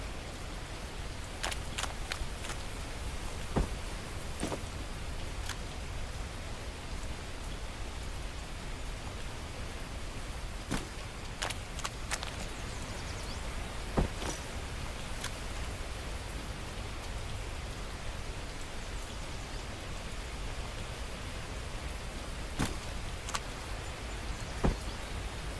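Steady rain falling in the survival game The Last Plague: Blight, a continuous hiss of drops with occasional sharper drip ticks, even and moderately loud with no talking.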